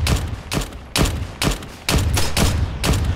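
Heavy .50 caliber gunfire in the video game Arma 3, with about seven loud, sharp shots in short bursts, evenly spaced and close.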